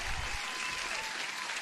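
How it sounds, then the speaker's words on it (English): Short burst of applause during a live day-trading stream, a steady wash of clapping at moderate level with a brief low thump at the start. "Round applause for Crypto Panda."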